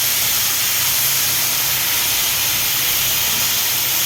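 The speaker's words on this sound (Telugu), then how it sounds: "ఇప్పుడు పాలకూర వేసేసుకోవాలి. పాలకూర వేసుకొని కలుపుకోవాలి." Spinach hits a hot pan of softened onions for a palak tomato curry, giving a loud, steady sizzling hiss that holds without a break, with no talking.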